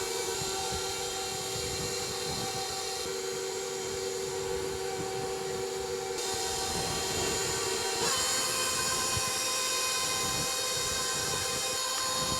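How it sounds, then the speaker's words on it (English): An electric stand mixer beats hot cream puff dough in a bowl, a steady, continuous motor drone with a sustained hum that runs unbroken throughout at a constant moderate level, with no voices. "While our mixer is beating right now"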